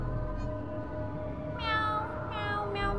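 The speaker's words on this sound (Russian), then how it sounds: "Это что, кошки? Почему они такие криповые?" Creepy cartoonish cats meow in the PUSS! demo game: a few short, high meows, close and fairly loud, over a steady droning game soundtrack, with no talking.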